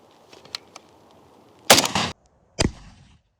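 A rifle fires a PS combat bullet at an armor plate: faint clicks first, then a loud sharp shot with a short ringing tail, followed by a second sharp impact-like crack, then silence.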